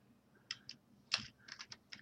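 Fingers tap on a computer keyboard in a short, irregular burst of crisp, close clicks, quiet overall, with no voices.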